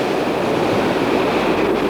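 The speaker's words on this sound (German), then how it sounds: "uns macht das Meer die Musik, das Meeresrauschen" Sea surf near Oberstdorf, a steady broadband roar of waves washing continuously without pause, fairly loud and alone with no voices.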